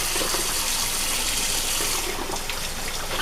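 Tap water gushes steadily and loudly as an oily plastic dish is rinsed and scrubbed under the stream, a dense close splashing with small changes as the dish moves, and no talking.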